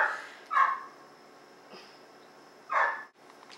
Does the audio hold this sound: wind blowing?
no